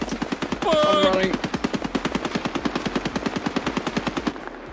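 LMG turret machine gun firing in a video game, a long rapid burst of evenly spaced shots, loud and close, with a brief shout near the start.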